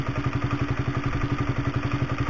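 A Honda CB150R motorcycle with a racing exhaust idles up close, its engine giving a steady, rapid rhythmic clattering knock over a continuous mechanical hum, loud and alone.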